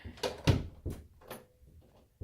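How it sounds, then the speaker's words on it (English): Interior doors in a house swing shut one after another, several muffled thuds and knocks spaced through a quiet room, fairly close, with a sharper bump at the very end. "I'm closing all my doors here"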